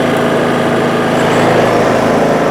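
Kraft&Dele KD194 inverter generator switched to its higher-power mode, a loud continuous engine drone with a dense buzzing tone held steady, heard up close.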